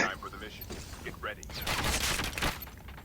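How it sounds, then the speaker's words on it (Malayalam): Bursts of rapid gunfire from a Call of Duty Mobile battle royale match crackle in the second half, following a stretch of quieter mechanical clatter and a faint voice. "ആരോ വെടിയും വെച്ച"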